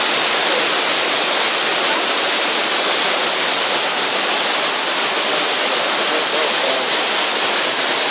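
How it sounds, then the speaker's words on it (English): Large indoor waterfall at the Opryland Hotel in Nashville, water cascading down in a steady, loud, broadband roar that fills the space without a break. "the water will cascade down in front of you"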